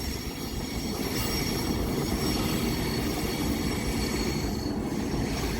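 A commuter train pulls out of North Philadelphia station, a steady loud rolling rumble with high wheel squeal and faint clickety-clack as it moves off.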